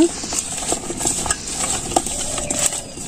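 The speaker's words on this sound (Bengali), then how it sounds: "লবণটা দিলাম, হলুদের গুঁড়ো, শুকনো মরিচের গুঁড়ো, ধনিয়ার গুঁড়ো ভালো করে মিশিয়ে নেব" Spices being stirred into food for a Bangladeshi village curry: salt, turmeric, dried chili powder and coriander powder mixed in with a utensil, giving soft, scattered scraping taps, close up and fairly quiet, with no talk.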